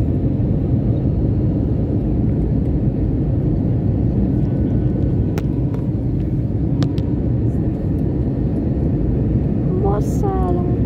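Wizz Air airliner landing at Budapest, heard from inside the cabin as a loud, steady low roar of engines and airflow throughout, with a brief voice near the end.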